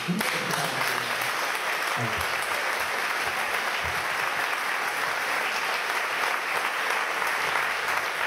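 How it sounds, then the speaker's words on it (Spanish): Audience at a PechaKucha Night event in Ferrol applauding itself, with steady full-room clapping and a few voices early on, holding even throughout. "me gustaría que os dieseis un aplauso a vosotros"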